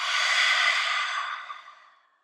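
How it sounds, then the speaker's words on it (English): A single long breath is exhaled through an open mouth during a vinyasa yoga class, soft and airy, close to the ear and fading slowly to silence. "Open the mouth, exhale."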